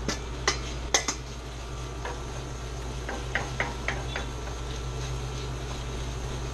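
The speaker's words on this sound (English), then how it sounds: "Take the knife out and just sort of scrape it. Use the back of the knife too." The back of a knife scrapes tomato paste out of a metal can, giving soft, sparse metallic clinks and scrapes over a steady low kitchen hum, fairly quiet and close.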